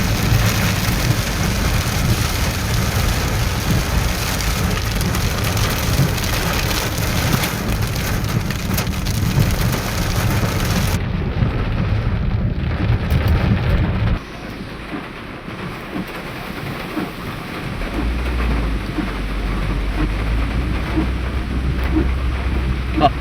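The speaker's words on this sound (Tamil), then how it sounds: "ஏன்னா நல்ல ஹெவி ரெயினாக இருக்குது." Heavy rain pours steadily in a rainforest, a dense continuous roar that stays loud throughout and dips slightly in the middle before building again.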